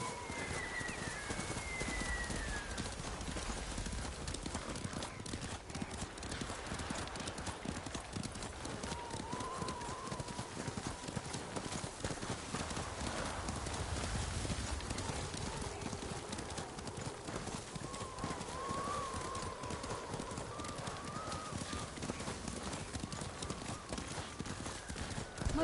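Horse hooves clip-clopping at a steady trot in Ghost of Tsushima, a continuous rhythmic patter under faint ambient bird calls, fairly quiet throughout.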